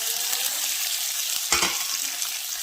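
Tomatoes dropped into a pan of softened onions frying, a steady sizzle throughout with a sudden louder burst of crackling as they hit the hot oil, close and without talk.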